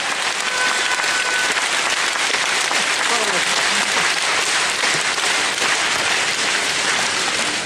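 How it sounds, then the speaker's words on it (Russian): Roughly two thousand attendees at an Oriflame conference in Paris applaud in a loud, continuous roar of clapping, with a voice briefly audible partway through. "Аплодисменты вам за ваши результаты, за ваши достижения"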